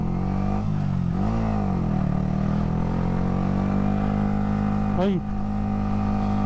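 A Yamaha R15 motorcycle engine revs on a test ride. Its loud, close, steady drone holds and swells, then blips sharply upward near the end, with wind noise and a brief exclamation from the rider.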